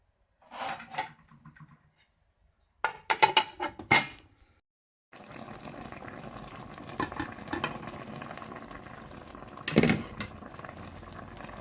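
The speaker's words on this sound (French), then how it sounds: "je mets ma casserole à bouillir à feu moyen" Faint clattering and knocks give way to a steady bubbling hiss of water boiling in a saucepan over medium heat, with occasional clinks, heard close up.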